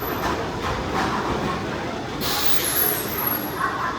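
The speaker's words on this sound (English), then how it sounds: "Here's my train." The Steel Force roller coaster train rolls into the station with a broad rumbling hiss, and a sharp burst of air brakes releases partway through, close and loud.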